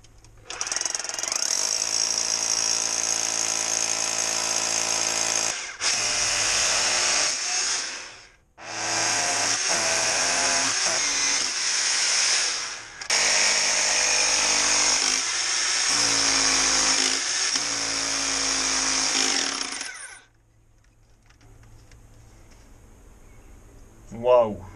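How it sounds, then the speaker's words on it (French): A rock drill bores into very hard granite at an amethyst extraction site in France. It gives off loud, close hammering in long sustained bursts with a few short pauses, then falls quiet near the end. "Donc je vais percer assez loin. Là, le granit il est très très dur"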